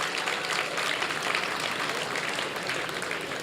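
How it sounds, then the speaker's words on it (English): Steady, dense applause from a gala audience fills the room, a continuous wash of many hands clapping at even loudness throughout with no voices over it. "it's so odd when your age gets applause"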